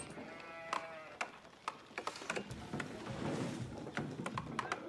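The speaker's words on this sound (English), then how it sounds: "Yeah, he's already set up sheep around there." Livestock calls from Age of Empires II, heard as a mix of bleats and moos. Sharp clicks and game effects sound throughout, with a busy background wash in the middle.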